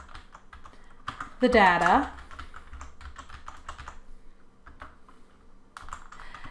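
Rapid keystrokes on a computer keyboard as chart data is typed into a Google Docs table, the clicks pattering steadily throughout with a short spoken phrase near the start.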